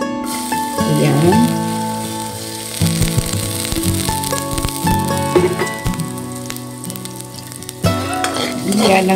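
Garlic frying in sesame oil in a wok for a chicken and vegetable stir fry, a steady loud sizzle with occasional stirring scrapes running throughout, with tonal background sounds layered over it.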